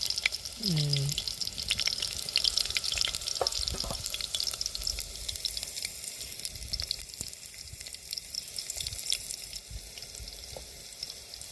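Oil sizzles steadily as garlic, onion and chillies fry in a pan outdoors by a river, with a few stirring scrapes and clinks early on; the crackle continues evenly throughout.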